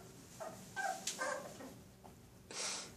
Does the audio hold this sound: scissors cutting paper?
no